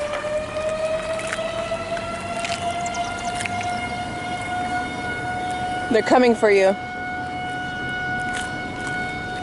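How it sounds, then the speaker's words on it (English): A tornado siren in Wilson, Kansas wails as a steady rising tone through the whole stretch, loud and sustained, while a voice speaks briefly over it partway through. "It's just a tornado siren."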